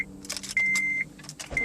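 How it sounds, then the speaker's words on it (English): A key jingles as it is turned in the ignition of a 2011 Honda Civic with a no-start fault, and a steady electronic chime sounds twice, with no engine cranking heard. "key on, try to start it"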